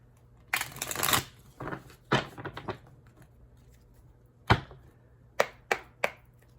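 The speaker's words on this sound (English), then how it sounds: "We'll do one more shuffle." Tarot cards riffle and slap together in several quick bursts, a loud flurry first, then shorter separate shuffles with pauses between.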